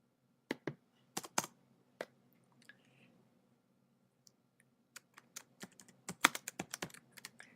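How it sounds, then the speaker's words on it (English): Quiet, irregular clicks from fingers typing on a computer keyboard come in short bursts separated by pauses, with a denser flurry of keystrokes near the end. "And I'm typing book list."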